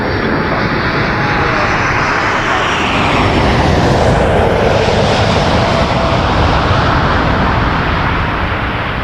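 A large jet, an Airbus 330 type approaching Toronto Pearson Airport, roars loudly and continuously at close range, its engine whine and broad rumble swelling and sweeping in pitch as it passes over.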